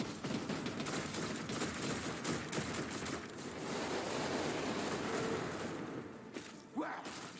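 Tarantula defense turrets fire in the Warhammer 40k Rogue Trader video game, a dense, continuous rattle of automatic gunfire with booming thuds mixed in, loud and sustained before trailing off near the end.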